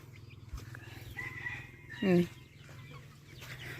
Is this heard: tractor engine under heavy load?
no